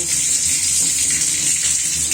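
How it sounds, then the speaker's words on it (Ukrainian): Steady gush of water running from a tap while waiting for it to turn hot, a loud continuous hiss with no break and no talking over it. "треба хвилин 5 почекати, щоб тепла вода з'явилася"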